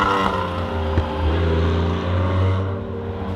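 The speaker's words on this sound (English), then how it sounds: "an explosion of mechanical sounds, slobbery induction noises, and a fantastic exhaust roar" Lancia Stratos engine roaring close up, a dense mechanical exhaust blare with a strong low rumble and slobbery induction noise, steady and loud throughout.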